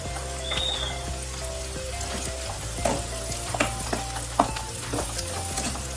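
Two large onions fry in hot oil for a Telangana-style crab curry, giving a steady close sizzle with occasional sharp crackles and pops throughout, with no voices.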